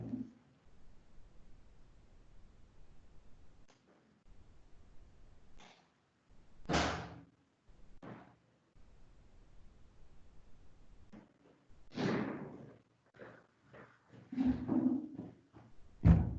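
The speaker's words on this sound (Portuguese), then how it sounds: "Deixa eu só encostar a porta que tá frio pra cacete aqui" A door is pushed shut on a cold day, giving a few soft thumps and knocks spread out over a quiet stretch, with faint shuffling between them and no speech.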